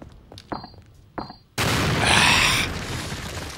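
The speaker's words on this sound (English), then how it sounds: "I really need to try and just drop a grenade in there." A grenade explosion in a video game lands as a sudden loud blast with a lingering rumbling tail, preceded by a few sharp short pops.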